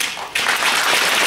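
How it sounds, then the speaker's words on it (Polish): Applause greets politicians at an election party convention in Kraków, starting abruptly after a brief moment and then continuing as a dense, steady wash of clapping from a large crowd. "Witajcie ich oklaskami!"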